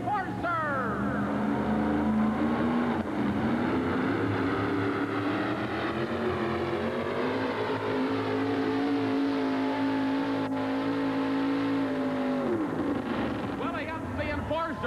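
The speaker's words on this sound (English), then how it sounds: "you could hear that engine popped down there on the starting line" Drag race car making a pass at the 1988 TNT Hampton session, its loud engine roaring and revving steadily for about twelve seconds before dropping away, with an announcer talking over it throughout.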